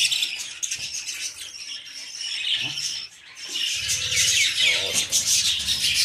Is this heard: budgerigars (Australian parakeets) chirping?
yes